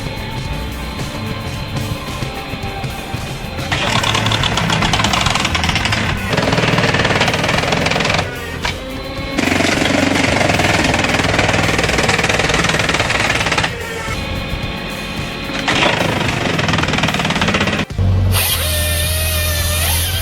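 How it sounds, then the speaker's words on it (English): Hammerhead GS44 firewood processor gripping and clamping large logs while its saw blade cuts them, giving loud, continuous mechanical grinding and rattling in long bursts with brief drops between cuts. "GS44 is a powerful wood-cutting machine with two integrated features: a gripping and clamping system to secure large logs, and an ultra-sharp saw blade"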